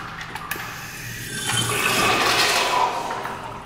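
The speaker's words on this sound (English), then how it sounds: "Want me to flush this one?" Kohler urinal flushing in a restroom, a loud rushing gush of water that swells after a second and holds steady, close by, with no talking.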